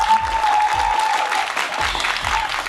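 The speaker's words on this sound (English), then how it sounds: "Please give them a round of applause" Studio audience applause, a crowd clapping together in a loud, continuous patter for a few seconds, with a brief tone and faint voices at the start.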